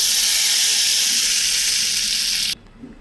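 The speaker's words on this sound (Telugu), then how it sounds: "ఇప్పుడు ఈ చట్నీలోకి పోపు అయితే వేసుకున్నామండి" Hot tempering poured into peanut chutney for upma, a loud hissing sizzle that stays steady for over two seconds, then cuts off abruptly, leaving quiet room tone.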